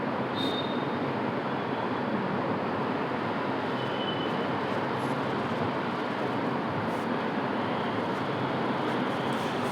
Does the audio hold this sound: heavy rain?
no